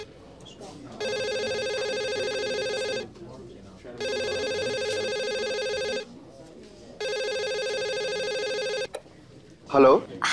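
A telephone rings in three long electronic bursts of about two seconds each, separated by short pauses, loud and steady, followed by a brief voice at the end.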